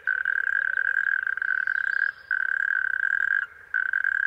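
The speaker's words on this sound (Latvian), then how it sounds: "Seklās klajumu peļķēs uz nārsta pulcējas smilšu krupji." Natterjack toads call at night from shallow puddles on an open heath, a loud continuous near churring trill that runs almost unbroken, with two brief gaps.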